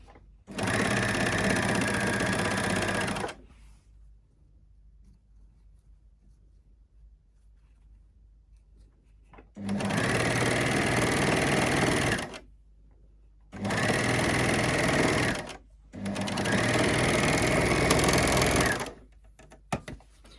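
Sewing machine stitching a fabric seam with piping for a bottle gift bag, running loud and close in three bursts: a long one, a quiet gap, then two more runs separated by brief pauses.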